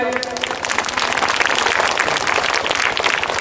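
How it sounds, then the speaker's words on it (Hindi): Loud, continuous clapping from a crowd gathered at a Hindu devotional Shiv Charcha with bhajan singing, dense and steady throughout. "चलिए ताली बजाइए"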